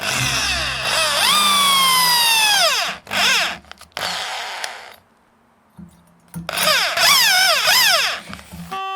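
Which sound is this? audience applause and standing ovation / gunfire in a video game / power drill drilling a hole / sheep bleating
power drill drilling a hole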